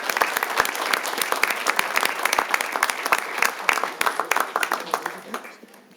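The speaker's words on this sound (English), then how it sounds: "Let's give these years of service recipients a warm round of applause." A warm round of applause for years-of-service award recipients at a city council meeting, brisk, dense clapping from a roomful of people that thins and fades out over the last second.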